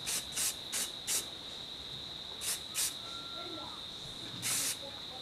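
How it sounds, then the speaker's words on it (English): Hairspray is sprayed onto a wig in several short hissing bursts, two quick pairs then a longer final spray, close and fairly faint against a constant high tone. "I'm just gonna lock in everything with this hairspray"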